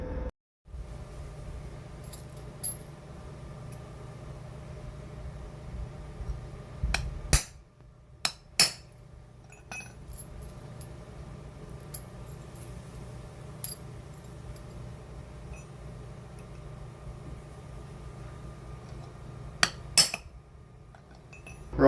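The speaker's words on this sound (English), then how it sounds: "I do have a hammer and chisel, so I'm going to go and smack it" A hammer and chisel strike a metal swage clamp on a caravan clothesline, giving a few sharp metallic clinks that are spaced irregularly against a quiet background hum, with a small cluster of hits near the middle and one or two toward the end.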